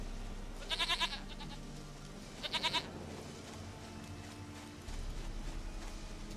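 Goat bleating in The Witcher 3 video game: two short, wavering bleats about a second and a half apart over a low, steady ambient rumble, with no voices.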